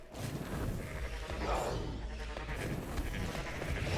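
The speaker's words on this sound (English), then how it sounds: "Oh, there's a goat behind him." Goat bleating in the video game Book of Demons comes through as a faint wavering cry midway, buried under dense, busy game noise and effects.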